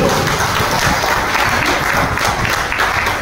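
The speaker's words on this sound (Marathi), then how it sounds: "या सर्व मंडळीसाठी एकदा जोरदार टाळ्या झाल्या पाहिजे." A village gathering's audience breaks into loud, dense applause, a sustained wash of many hands clapping at once with no pauses, heard up close.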